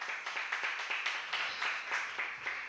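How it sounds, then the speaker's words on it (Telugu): A church congregation claps loudly in a Sunday service, a dense, continuous patter of many hands with a loose, uneven rhythm, heard close and without speech. "గట్టిగా చప్పట్లు కొట్టాడు ఒకసారి"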